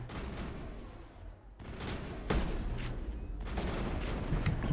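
Gunfire in the video game Mass Effect 1, bursts of rapid shots in a dense rattling stream, broken by a short pause near the start and then resuming louder and continuing to the end.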